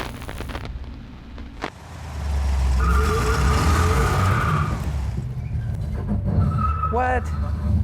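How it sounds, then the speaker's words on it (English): A 1970 Plymouth 'Cuda engine roars up close, followed by a high, wavering squeal from the brakes near the end, with people talking over it. "Sounds like the brakes."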